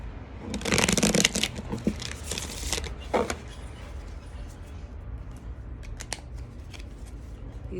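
A Mental Oracle card deck is shuffled by hand close up: a burst of rapid riffling, papery flutter and snapping, then scattered softer card slides and taps, with no talking.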